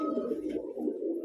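Pigeons coo in a soft, continuous, throaty rolling murmur, close and steady with no talking over it.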